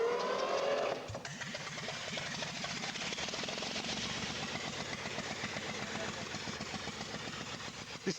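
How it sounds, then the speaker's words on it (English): A three-cylinder, 34-horsepower engine is test-run on a boat deck. It catches after about a second and settles into a steady, rhythmic chugging run that stays loud and close throughout. "This three-cylinder engine chucks out 34 horsepower on a good day."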